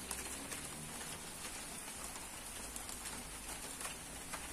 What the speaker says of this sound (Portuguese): Uma chuvinha fraquinha, mas é chuva.